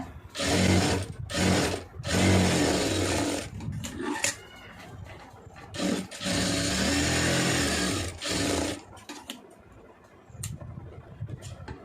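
A sewing machine stitching a folded cloth edge in short, loud, close bursts of whirring, stopping and restarting several times with pauses between runs and no talk.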